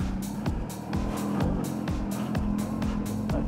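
Kawasaki H2R motorcycle pulling away in first gear down a track pit lane, a loud, close, rough engine drone with rhythmic pulsing as it moves off.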